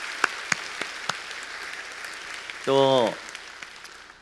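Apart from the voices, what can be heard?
church congregation applauding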